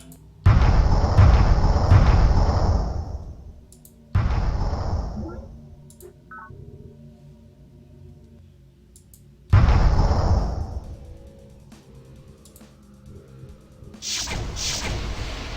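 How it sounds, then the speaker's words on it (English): Artillery bombardment in the strategy game Alpha Centauri: three heavy explosions, each a loud broadband boom that rumbles and decays over a couple of seconds, separated by quiet gaps, followed by a sharper burst at the end. "Bombardment failed."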